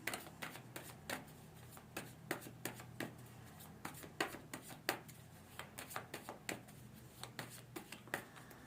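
Quiet, close shuffling of cards, a run of crisp riffles and taps at an uneven rhythm with no talking.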